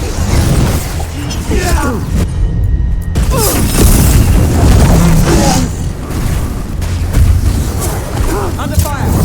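Combat explosions in the video game Dragon Age Veilguard: loud repeated booms and bursts with a brief lull, mixed with shouting voices over the chaos.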